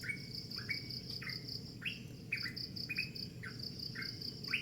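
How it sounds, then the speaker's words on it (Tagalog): Early-morning birdsong in Mulawin: a bird repeats short, bright chirping calls about every half second. A constant chorus of crickets or insects runs underneath, and no one speaks. "Ginigising ka na ng mga huni ng ibon dito."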